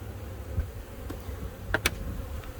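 Honeybees carrying yellow pollen into the hive entrance, a low steady buzz of many bees close by, with a few brief louder passes of single bees.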